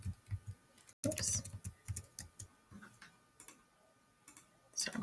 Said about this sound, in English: So I'm clicking too fast.